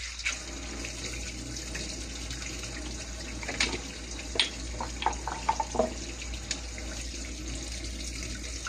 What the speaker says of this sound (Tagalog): tinakpan ko lang yung gripo, ganyan lang para maging pressurize siya